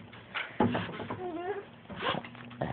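A cat meows with a rising and falling wail, mid-level and close, while people talk over and around it.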